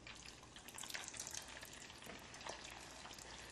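Pork shoulder blanching in plenty of hot oil gives a dense, steady sizzle and crackle that runs continuously and fairly close, with no voices.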